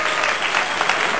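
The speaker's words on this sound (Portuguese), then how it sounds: "Palmas, por favor!" Brief burst of applause greets the start of a home vlog, a dense clatter of clapping that stays steady and loud for just over a second, with no voices over it.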